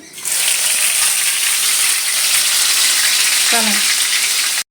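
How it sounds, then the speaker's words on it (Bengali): Onion and ripe green chili paste hits hot oil in a pan for doi katla, a loud, steady close-up sizzle that starts abruptly and holds throughout, with a brief clink near the end. "পেঁয়াজটা আগে প্রথমে ভালো করে ফ্রাই করে নেব"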